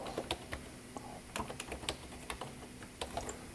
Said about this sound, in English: type something in that you think would work good for a sign